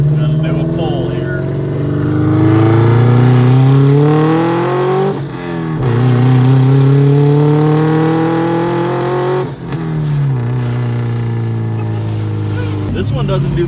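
Bone-stock Subaru engine fitted with a turbo, revving hard through a pull, loud and close, pitch climbing steadily through several gear-like rises with brief dips between them.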